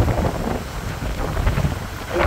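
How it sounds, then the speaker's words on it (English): Strong wind roars and buffets the microphone on a rooftop in San Diego in a steady, rumbling gust with no voices. "Very, very windy, especially for San Diego"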